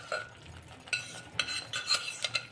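Cooked dal being tipped into a pan of vegetables for dal makhani, giving a few soft clinking and sloshing knocks of utensil on pan in quick irregular bursts at close range, with no talking.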